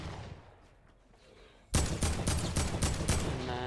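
Rapid automatic gunfire from a Fortnite weapon spraying down an opponent, a sudden loud burst of quick repeated shots that keeps going, following a quieter stretch of low game ambience.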